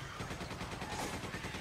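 Gunfire in the video game Resident Evil 5, a quick run of rapid, evenly spaced shots over a dense, noisy game soundscape, moderately loud for under two seconds.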